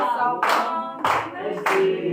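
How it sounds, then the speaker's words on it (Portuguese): Congregation clapping during a Portuguese-language deliverance church service: three loud, close bursts of applause spaced roughly every half second, with faint voices behind. "bate palmas para Jesus"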